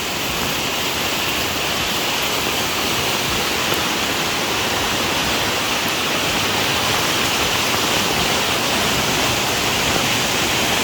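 Floodwater after heavy rain rushing past nearby, a loud, dense, continuous roar of churning water holding steady without pause and no voices over it.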